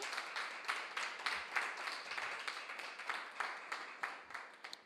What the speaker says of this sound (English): a final round of applause for both teams who did very well